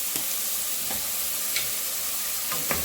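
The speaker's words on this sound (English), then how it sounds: "To my pot, I'm going to put some olive oil in here and drop in my onion, as well as a pinch of salt." Chopped onion with a pinch of salt sizzles in olive oil in a pot. A steady hiss is broken by a few distinct stirring clicks, close up and without speech.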